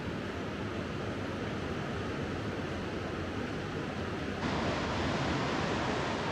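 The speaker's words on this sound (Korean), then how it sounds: "협곡 사이를 통과하는 거친 바람 때문에 더 움츠러드는 것 같다" Rough, steady wind roars through a cliffside gorge beneath a high footbridge in southern Spain, a constant broadband rush that swells slightly louder near the end, with no voices.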